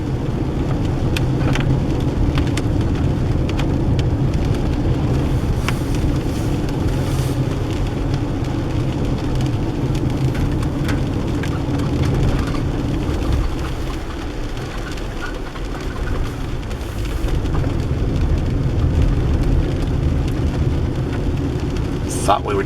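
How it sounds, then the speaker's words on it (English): Steady rain drums on a car moving along a wet rainforest coast road, a continuous broadband wash with road and engine rumble beneath, loud and unbroken throughout. "It's a rainy day."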